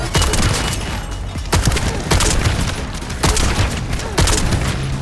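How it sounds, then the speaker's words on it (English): Repeated punchy gunfire-like blasts with booming impacts as enemies are killed in The First Descendant, several bursts spaced about a second apart over dense, loud game-action noise. "And that sound it makes when you kill an enemy"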